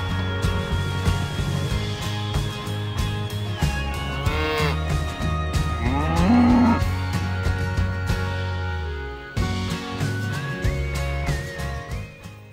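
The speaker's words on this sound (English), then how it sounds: "They have enjoyed getting to know our fattening cows" Fattening cows on a farm, with a couple of deep, drawn-out moos rising over a busy outdoor background that has a steady hum and scattered clatter.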